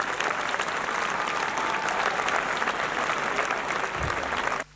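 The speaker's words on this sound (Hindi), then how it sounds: "जोरदार तालियां बजा दीजिए।" Loud, continuous applause from an audience at a turban-tying ceremony honoring a young hafiz, steady clapping filling the hall before cutting off abruptly near the end.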